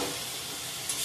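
Fried potato and soybean pieces stir-fried in a pan for an egg curry, giving a steady close sizzle and hiss with a faint scrape.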